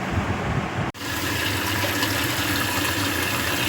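Tap water running steadily while kajuri fish bought already cut from the market is washed, a continuous close splashing hiss broken by one brief dropout near the start.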